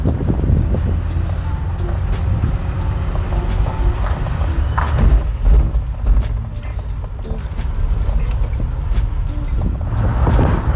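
A BMW E30 drives along a countryside road on an overcast day, its engine and road rumble a steady, loud low drone from start to end, joined by broadband wind rush.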